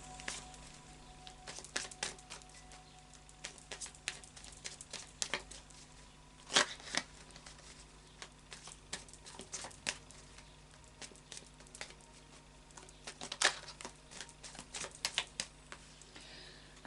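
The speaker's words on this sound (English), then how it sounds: "And then a final shuffle of the Light's Ears Tarot." Tarot cards are shuffled by hand in irregular bursts of soft riffling and slapping, with quiet pauses between, close and fairly faint.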